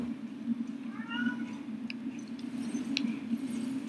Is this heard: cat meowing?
yes